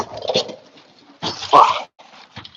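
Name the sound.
birds outdoors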